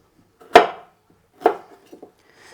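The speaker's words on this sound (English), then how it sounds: "I'll just cut them into small pieces. And now I'll do exactly the same for these green and yellow peppers." A knife chops green and yellow peppers into small pieces on a board: two sharp, close cuts about a second apart, then a few softer taps, with near silence between them.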